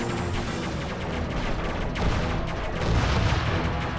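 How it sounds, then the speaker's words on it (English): Laser fire in the space shooter video game Aegis Wing rattles on in a loud, dense stream of rapid blasts and booms, swelling slightly in intensity partway through, with no talking. "I'm a firing my laser."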